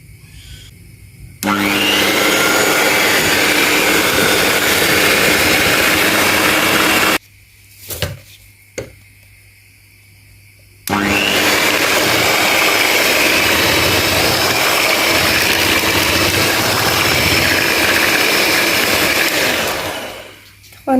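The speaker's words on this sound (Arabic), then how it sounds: "بعد كده نشغل المضرب اليدوي" An electric hand mixer whirs loudly and steadily while beating a kunafa mixture, stops for a few seconds with a couple of knocks, then starts again and runs before winding down.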